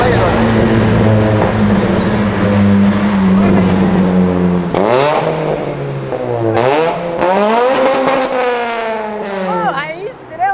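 A V8 car engine revving hard, with deep rumbling idle giving way to rising and falling throttle blips that swing the pitch up and down, loud and close, with people talking over it.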